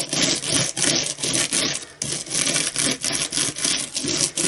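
A brush fitted with a sticky pickup tool is rubbed along the back of a cutting die resting on foam, giving loud close rhythmic scraping strokes, about eight back-and-forth rubs with short gaps, no voices.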